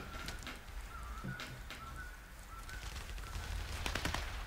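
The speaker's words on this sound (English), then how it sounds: "Stop shooting me, people." Rapid bursts of gunfire in a shooter video game, dense clattering shots with a few sharp louder cracks toward the end, steady and moderately loud with no talking.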